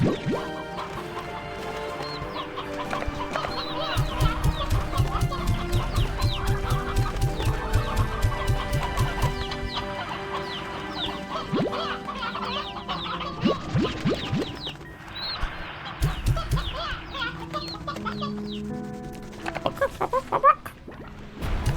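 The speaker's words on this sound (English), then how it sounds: "Oh, so many chickens in here, though." Chickens in the video game Slime Rancher 2 cluck and squawk in busy, overlapping bursts, close and fairly loud, with a game soundtrack behind and no talking.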